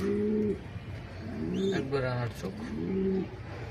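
Racing pigeons coo in short throaty bursts at a hobby loft, close and fairly soft, with a voice faintly heard among the calls.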